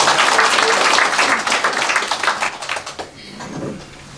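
An audience applauds to welcome a county governor at a public meeting with residents. The clapping is loud and dense at first, then thins into scattered claps and fades out.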